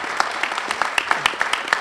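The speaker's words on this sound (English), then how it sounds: "Give David a big round of applause." Brief, fairly soft applause rises from the audience at a congressional veterans commendation ceremony, a dense patter of hand claps with no talking over it.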